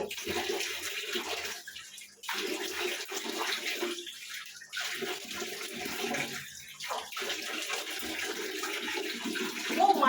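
Water splashing and pouring in a bathroom as soap is washed off the body, a continuous rushing flow broken by short pauses, close and fairly steady.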